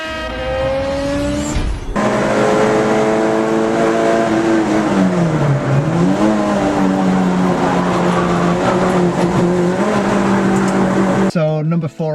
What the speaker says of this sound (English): number 5 on my list is the K11 Nissan Micra